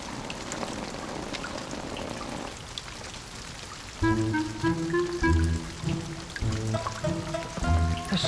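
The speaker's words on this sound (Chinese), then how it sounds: "这又冷又热的，还下雨" Heavy rain pours down in a steady, dense hiss in a cold, damp place, first on its own and then beneath music that enters partway through.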